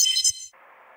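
A quick, bright electronic chime followed by a softer, buzzy tone that trails off, the roughly one-second kiss pickup effect from the game A Reckless Disregard for Gravity.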